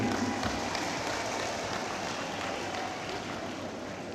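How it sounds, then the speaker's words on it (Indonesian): Audience applauds the Indonesian Minister of Cooperatives and SMEs during a visit to a cooperative in Bojonegoro: a dense, steady wash of many hands clapping that holds for the whole stretch, with no clear talk over it. "Tepuk tangan buat Pak Menteri."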